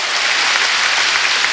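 Church congregation clapping together in praise during a Korean sermon, a dense, steady wash of applause filling the whole moment without pause, fairly loud and close, no voices standing out.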